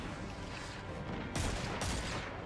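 Rapid gunfire in the Destiny 2 shooter game during a Grandmaster Nightfall mission, a dense burst of loud, close shots in quick succession, with two sharper bursts in the second half and no talking.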